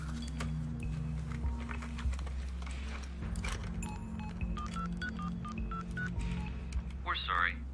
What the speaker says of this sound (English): I phoned her number.